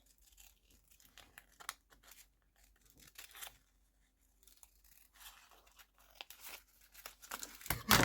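Scissors snip through paper while small strawberry shapes are cut out, making soft close crinkles and short cutting sounds, sparse and quiet, with a louder rustle at the end.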